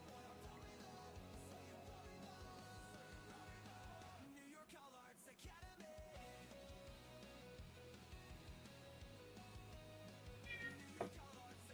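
Cats meowing indoors, one drawn-out meow standing out faintly amid low background noise, with no speech.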